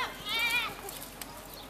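A goat at a high school rodeo goat-tying event gives one short, fairly faint bleat over crowd noise, with a voice talking in the background.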